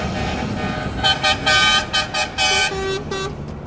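Several car horns honk in short bursts and longer blasts, loud and close, over a rumbling engine.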